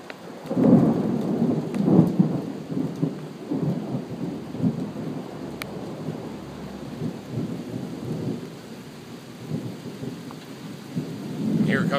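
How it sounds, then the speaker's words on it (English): A thunderstorm over Raleigh, North Carolina, with steady rain hissing throughout and deep rumbles of thunder rolling in near the start and again at the end, carried alone without talk. "here comes the rain, guys, and the lightning, and the thunder"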